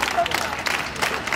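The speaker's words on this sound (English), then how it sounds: "Give them another round of applause." An audience at the Virgin Islands Madras fashion show applauds the designers, a brief burst of clapping mixed with crowd murmur and voices talking.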